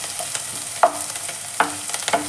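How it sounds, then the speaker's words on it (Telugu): Capsicum fries in a pan for vangi bath, a low steady sizzle broken by two or three sharper clinks and stirring scrapes, heard close up with no voices. "నేను వంకాయ వాడను కాబట్టి క్యాప్సికమ్ వేస్తున్నాను"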